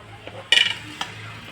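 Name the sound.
washing a kadai (wok)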